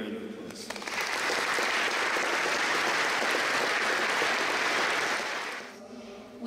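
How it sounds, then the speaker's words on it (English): Sustained applause from a large audience at a UN Peace Day event in Belfast, swelling quickly into a dense, steady wash of clapping that holds for several seconds before fading out. "And can we give her a big round of applause?"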